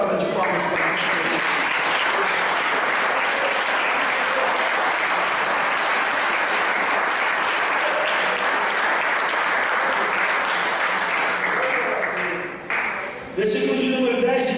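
A church congregation applauds loudly and continuously during a worship service, a dense, sustained wash of many clapping hands that fades briefly near the end as voices and a return of sound come back in.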